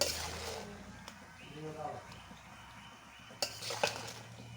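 Pulihora tamarind rice being mixed with a utensil: light clinks and scrapes against a vessel, with a couple of sharper knocks near the end, under soft intermittent talking.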